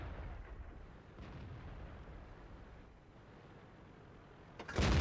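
A tank cannon booms from a Chinese WZ-132 light tank in World of Tanks, a sudden loud blast near the end after a steady low rumble of engine and battlefield ambience.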